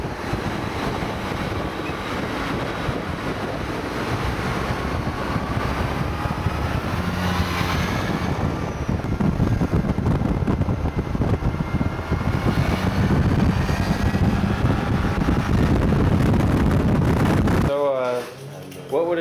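Heavy wind buffets the microphone over a steady scooter engine drone and road rush on a busy street in Italy, with a voice briefly audible near the end amid traffic.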